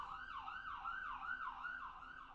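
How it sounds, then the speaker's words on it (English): An ambulance siren wails past in a steady rising-and-falling cycle, repeating about five times, somewhat distant and fairly faint but clear, with no talking over it. "Given that ambulance going by"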